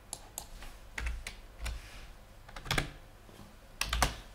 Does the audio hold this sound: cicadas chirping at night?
no